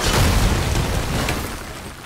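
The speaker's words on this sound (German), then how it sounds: "Mit Explosionen offensichtlich." An explosion in the video game God of War on PS4: a loud, deep boom opens the moment and rumbles out over about two seconds with no voices.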